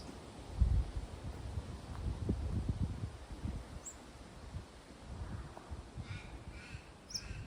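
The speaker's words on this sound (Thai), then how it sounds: "เสียงนกเสียงกา" Crows cawing outdoors, a few faint, distant calls near the end over soft wind and rustling leaves, with low gusty rumble earlier.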